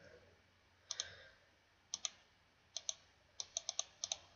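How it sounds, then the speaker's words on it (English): Light, faint clicks of typing on a computer keyboard come in small clusters of two or three keystrokes separated by pauses, with no talking. "She's just going to be typing something,"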